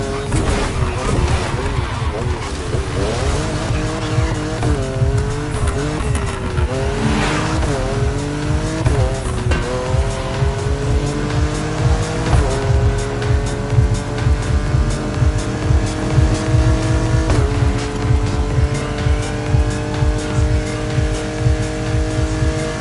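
Japanese race cars roar through The Crew Motorfest, loud engines revving and shifting up through gears, with tire squeal and skids, continuous and close with no voices.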